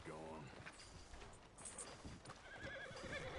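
A horse in the video game Red Dead Redemption 2 gives a whinny over hoof clip-clops, quiet and mixed with game sounds, while a voice talks.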